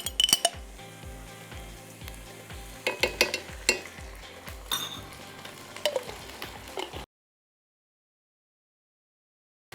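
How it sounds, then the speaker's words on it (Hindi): Chopped onions browning in a hot pan in a home kitchen, a soft sizzle broken by repeated spoon clinks and stirring taps, ending abruptly in silence. "सो अब मैंने यहाँ ब्राउन करना है प्याज को"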